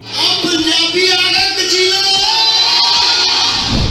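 A huge crowd at a concert in Delhi roars, yells and whoops continuously, a loud, dense wall of cheering with voices rising above it.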